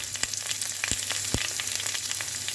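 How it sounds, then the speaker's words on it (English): Onions fry for sambar in a hot pan, a steady bright sizzle punctuated by a few sharp crackles and stirring clicks, close and alone. "and fry all this together till the onions get almost changes its color."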